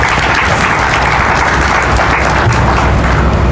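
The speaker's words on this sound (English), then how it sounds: "Let's give them a round of applause as well" An audience gives a round of applause at the grand opening of a Clayton County police precinct: loud, continuous crowd clapping that holds steady throughout with no break.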